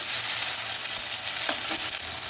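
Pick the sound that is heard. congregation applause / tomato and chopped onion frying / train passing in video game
tomato and chopped onion frying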